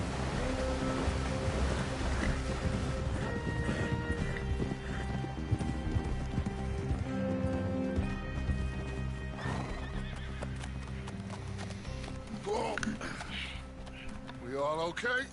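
Horse hooves clip-clopping in Red Dead Redemption 2 with whinnies and neighs, loud and steady throughout over a dense game soundtrack, with a voice talking partway.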